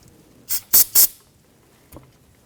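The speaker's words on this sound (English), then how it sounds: "I'm going to spray this down a little bit of solvent." Three quick hissing bursts of solvent sprayed from an aerosol can during brake bleeding on a 2017-2020 Hyundai Elantra, loud and close, followed by a soft thud a moment later.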